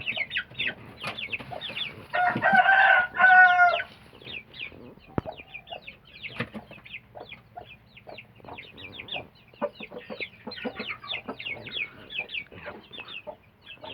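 Chickens cluck in a coop where mites are being treated, with a loud burst of squawking and crowing-like calls early on, then steady scattered clucks continuing nearby.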